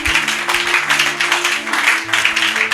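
A church congregation claps and cheers in a steady, loud wash of applause, with sustained organ or keyboard tones underneath.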